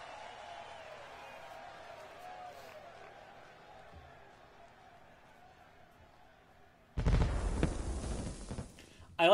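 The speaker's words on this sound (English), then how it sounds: "I like how they have pyro in the game when they've done away with pyro on the actual show" Pyrotechnic blasts erupt loud and sudden at a wrestler's entrance in the video game WWE 2K18, a dense burst of bangs and roar that cuts in near the end after a stretch of quieter arena ambience.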